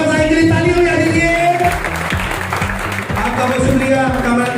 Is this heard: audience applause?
yes